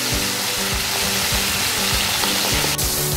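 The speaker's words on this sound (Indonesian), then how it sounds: "Kita goreng dia sehingga garing." Salted mackerel fries in hot oil until crisp, giving a loud, steady crackling sizzle with dense spitting pops throughout and no voices.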